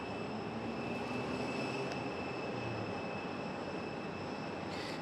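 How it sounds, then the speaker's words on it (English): An Icelandair airliner taxis toward the end of the runway at Raleigh-Durham International Airport, a steady distant jet engine roar and whine with a constant tonal hum, heard alone with no talk. "Iceland is making its way out here to the end of the runway"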